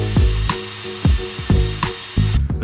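A brush scrubs the back of a Lada Niva front brake caliper in a series of short, rhythmic rasping strokes, about six of them, loud and close, with no voices.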